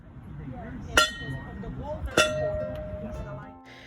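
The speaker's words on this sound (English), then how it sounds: "make sure you stop and ring the bell" The entrance bell at Coral Castle in Miami, Florida, is struck twice, about a second apart. Each strike gives a bright metallic clang that rings on and fades, heard over a murmur of voices and background chatter.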